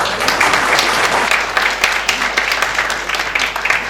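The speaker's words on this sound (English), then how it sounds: "I think she deserves a round of applause." Loud, close applause from a conference audience for the event's MC, a dense, steady clapping that fills the whole short stretch.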